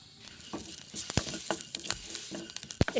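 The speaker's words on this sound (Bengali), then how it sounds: "কড়াইয়ে সর্ষে গোটা জিরে ছেড়ে দিলাম" Mustard seeds and cumin hit a hot dry wok and sizzle in short bursts, with sharp crackles and pops scattered across a quiet background, close and fairly faint.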